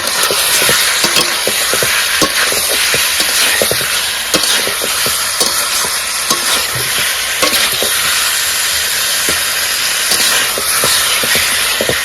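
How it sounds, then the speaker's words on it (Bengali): Shingi catfish being stir-fried in spice masala in a pan: a loud, continuous hissing sizzle close by, with a steady stream of quick scraping clicks from the stirring spoon. "আর ভালো করে একটু কষায় নেব।"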